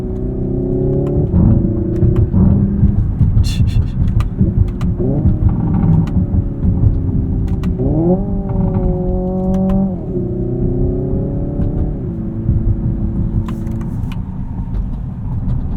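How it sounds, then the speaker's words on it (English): Hyundai Ioniq 5N electric motor under throttle with N Active Sound, a loud, steady synthetic engine-like drone whose pitch climbs and then steps up again in stages, rising and settling several times inside the car. "when you roll into the throttle on this, there's like a 2-stage sound from the electric motor"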